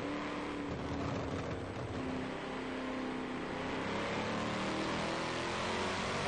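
A Corvette with a racing V8 in the GT3 class, racing at Spa in a video game, holds a steady droning engine note with slowly shifting pitch as it accelerates, fairly quiet and with no talk.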